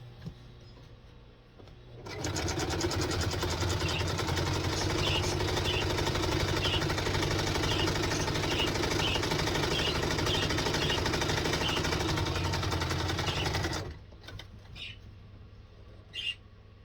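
A sewing machine runs continuously for about twelve seconds, stitching a seam across a homemade cloth menstrual or incontinence pad, with a steady close-up mechanical whir and rapid needle rhythm, then stops, leaving a few faint handling clicks.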